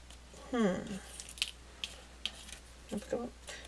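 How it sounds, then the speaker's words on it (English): Scissors snip little paper strips during a paper craft session of making envelopes from Gelli prints, giving a few sharp, separate clicks close by, with a person talking over part of it. "So I just cut some little strips here"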